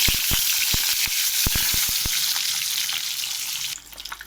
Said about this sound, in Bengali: ডিমগুলো আমি লাল লাল করে ভাজবো।